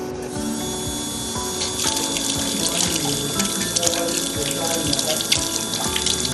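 Water runs steadily from the tap of a hand washing kit, a continuous splashing stream with faint clicks and knocks in the background.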